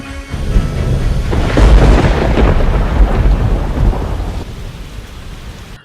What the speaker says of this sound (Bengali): যে বৃষ্টি শুরু হয়েছে তাতে বাড়ি বাড়ি থেকে কেউ বেরোতেই পারছে না